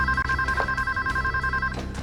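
A telephone rings with a steady electronic warble that stays loud and continuous throughout, over low background rumble.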